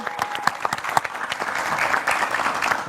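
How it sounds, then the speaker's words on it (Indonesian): Studio audience clapping on a live Indonesian football talk show after a national team win over China, a steady burst of dense applause from a nearby crowd, fairly even throughout. "Tepuk tangannya lagi dong."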